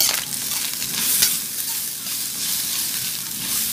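Fried rice with Chinese sausage is stir-fried and tossed in a pan, giving a bright, steady sizzle and hiss, fairly close, with a brief rattling stir near the start.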